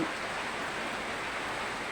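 Rain falls steadily around a house in a continuous even hiss, close and unbroken, with no voices over it.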